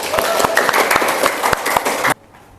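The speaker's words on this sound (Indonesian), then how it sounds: "Dan sekali lagi tepuk tangan kepada kita semuanya." Classroom applause from students and trainee teachers in an Indonesian Islamic cultural history lesson, loud and busy with sharp claps and voices mixed in, cutting off abruptly near the end into quiet.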